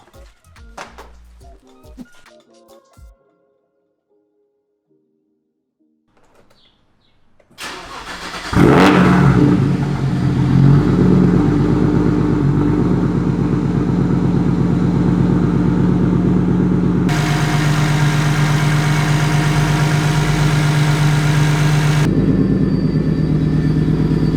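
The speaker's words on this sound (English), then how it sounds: "I want to take it for one quick rip and make sure it doesn't misfire or anything through the pull" An 800-horsepower BMW 135i, with metal found in its oil, cranks and fires after a quiet stretch with faint clicks, then settles into a loud, close, steady idle with shifts in engine pitch and intensity partway through.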